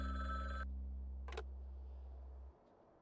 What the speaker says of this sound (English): Oh, I hear the phone going off.